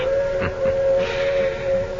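A train whistle sounds far below a cliffside lookout as one sustained, steady tone over a faint hissing background, with no voices.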